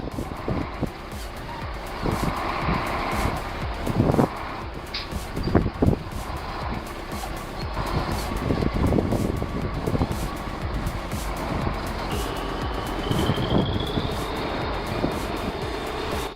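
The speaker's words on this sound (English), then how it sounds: "that's a Kamaz 4310, a true off-road workhorse built for punishment like this" A Kamaz 4310 off-road truck engine rumbles steadily and loudly, close by, with a few heavier bursts along the way and a faint higher whine near the end.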